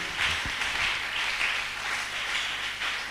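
Congregation applauding during a church service, a steady wash of many hands clapping at moderate distance, sustained and even throughout with no talking.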